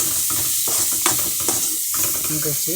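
Chopped tomatoes being stirred into a sizzling mixture in a pan, with a loud, continuous frying hiss and the soft scraping and knocking of a spoon moving through the food close by.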